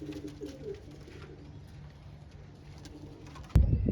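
Soft, low pigeon cooing repeats through a quiet background, then a sudden louder rustle or thump cuts in near the end.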